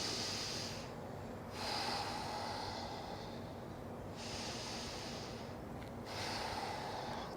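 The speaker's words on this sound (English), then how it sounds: "we're going to take 2 deep breaths together" Slow, deep breaths taken during a kids' yoga lunge, long airy inhales and exhales alternating evenly, close and fairly soft.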